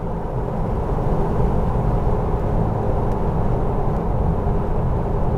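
A Jeep TJ Wrangler with 3.73 gears and 32-inch tires pulls uphill in traffic at part throttle after a kickdown, a steady loud low engine and road roar heard from inside the cab.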